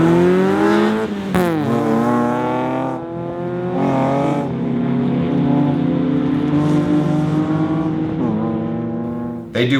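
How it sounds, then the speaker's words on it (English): Mazda MX-5 Miata race cars (NA and NB) accelerate hard at Lime Rock Park, engines rising in pitch through repeated gear changes, loud and close, with someone talking over the engine noise. "one starts going until they see a line of cones, and then they floor it, and then the other guy floors it as soon as he passes those cones too"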